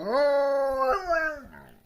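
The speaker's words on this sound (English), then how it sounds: "there's my dog. He's really happy." A dog lets out a close, drawn-out whining howl that wavers up and down in pitch, then fades away.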